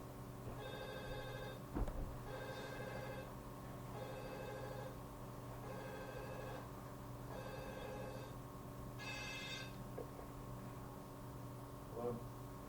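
Telephone ringing during a tabletop role-playing game session, a faint electronic ring repeating in regular bursts about every two seconds over a hum of room noise.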